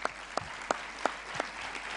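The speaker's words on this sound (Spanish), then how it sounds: "Un aplauso." Faint audience applause at a conference sounds as a handful of sharp, evenly spaced claps at a steady rhythm in a large hall.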